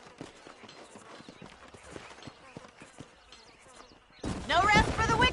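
Horse hooves clip-clopping in the Western video game Red Dead Redemption, a steady rhythmic patter of moderate loudness under faint ambience, giving way to louder speech near the end.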